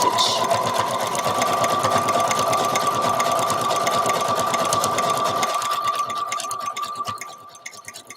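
Sewing machine running a zigzag embroidery stitch: a steady, fast whirring buzz of rapid needle strokes held for several seconds, then slowing and fading near the end, close by.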